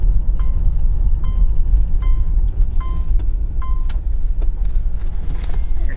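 A Cadillac Allante convertible, recently repaired after flood damage, rumbles at low speed with a steady engine and road drone, windows up, while a series of short high-pitched ticks or chimes repeat over the hum.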